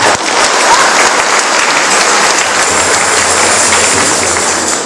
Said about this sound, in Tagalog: Baka gusto niyong pumalakpak.